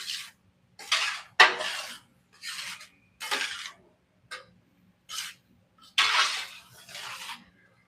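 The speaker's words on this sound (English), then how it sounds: "so stir all this in here" Ingredients for beef stroganoff stirred in a pot, a spoon scraping and knocking against the pot in short repeated bursts with brief pauses between them, close and fairly loud, with no talking.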